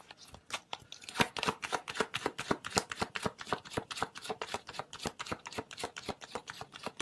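Oracle cards shuffled by hand in a quick, steady run of crisp riffling snaps that fill the whole stretch, close and fairly loud with no talking.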